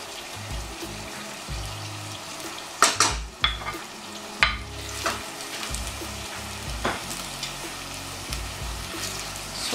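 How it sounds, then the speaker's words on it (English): Beans with garlic, pepper and seasoning being stirred in a pot, a soft simmering sizzle under a few sharp spoon knocks and scrapes, close by. "So mix everything together."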